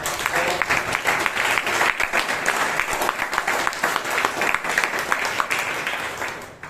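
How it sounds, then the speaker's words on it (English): Steady, lively audience applause at a Toastmasters club meeting, many hands clapping close and loud with a brisk, even rhythm before tapering at the end. "I would request all of you to give a thundering round of applause to both of"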